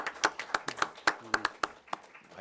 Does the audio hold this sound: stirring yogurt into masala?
no